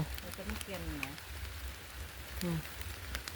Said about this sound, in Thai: ฝนก็เริ่มตกมากเนาะค่ะ